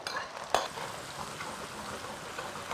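Lard, dried Sichuan peppercorns, pickled ginger, pickled chilies and aged chili bean paste hit the hot oil left from frying crucian carp, a soft, even sizzle with one quick utensil clink near the start.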